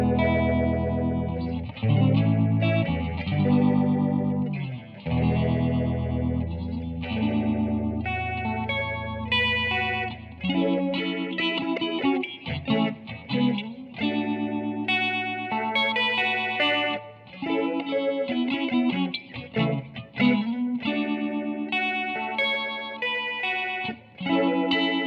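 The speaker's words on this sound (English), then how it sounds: "We should have a nice slow phaser, but it still has that deep undulating characteristic." An electric guitar played through a Warm Audio Mutation Phasor II pedal on a slow phaser setting, chords and single notes with a deep, undulating sweep, distorted and rich, loud and continuous with brief pauses between phrases.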